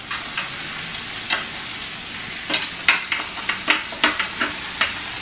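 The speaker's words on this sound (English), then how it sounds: "In between time, we're gonna flip these steaks," Steaks sizzle in a hot pan, a steady frying hiss punctuated by a run of sharp crackles and spatters as the meat is turned, close and moderately loud with no talking.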